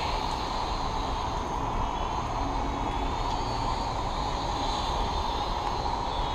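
A Syma X5C toy quadcopter drone flies in rain, giving a steady, unbroken high-pitched rotor whine that stays close and even throughout with no talk.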